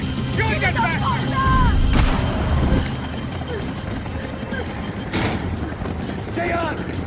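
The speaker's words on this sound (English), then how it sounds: "Max, shoot that bastard!" Gunfire and explosive blasts ring out in a Max Payne 3 shootout, rumbling loud and near over shouted character dialogue, with a helicopter-like drone running underneath.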